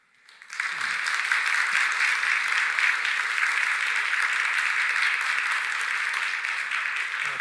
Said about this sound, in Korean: 여러분들 뜨겁게 한번 박수로 축복할까요?